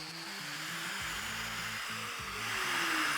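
A domino joiner cutting mortises in table legs, a steady loud whirring motor whine close by, rising slightly in intensity toward the end.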